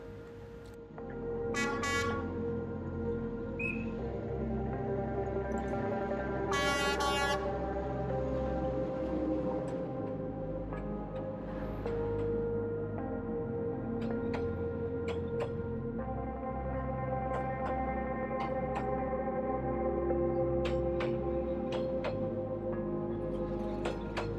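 A train passes along a narrow residential street in Hanoi, a steady loud rumble and clatter running throughout, with several short horn toots near the start and sharp metallic clanks scattered through.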